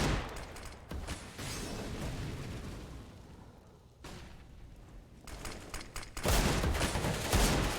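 Rapid gunfire bursts crackle through a Counter-Strike match on the Mirage map, loud and dense shots repeating with brief gaps, ending in a heavier volley, with no talk over them.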